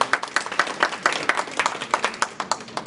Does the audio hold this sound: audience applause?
yes